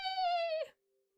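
A human voice imitating a cat's meow: one drawn-out, clear, close nasal mew that holds steady, then drops off abruptly into near silence, alone with no other talk.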